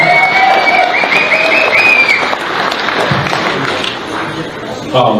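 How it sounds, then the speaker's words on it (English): Crowd applause and cheering at a gathering for Leonard Peltier's return to his homelands, a dense wash of clapping with whistles and shouts, loud and close, easing slightly toward the end. "Give them a round of applause."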